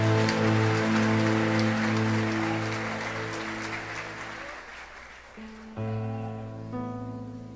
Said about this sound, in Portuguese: dando a Jesus uma linda salva de palmas, porque Ele é tremendo